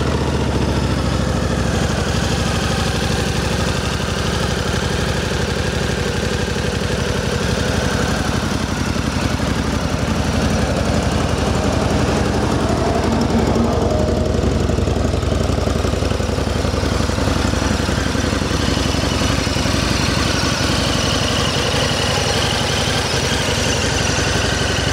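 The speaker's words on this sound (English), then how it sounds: "Let's go ahead and verify these miles here and then we'll fire it up." Harley Davidson V-Rod Muscle VRSCF motorcycle with 799 miles idles close by in a steady, quiet, even rumble that holds constant throughout with no talk.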